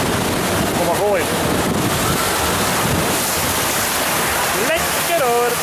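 Water from a small, fast amusement park water ride called Rio Rapidus splashes and rushes steadily throughout, a loud, continuous wash close by, with brief voices rising over it near the start and end.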